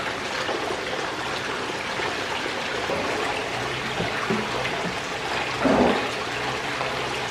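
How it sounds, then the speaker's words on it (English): Steady watery rushing and sloshing fills the clip, with a slightly louder splash near the end, as gravel from a gravel pit is mixed with water for gold prospecting. "I just mix it up with this water right here and just wet it"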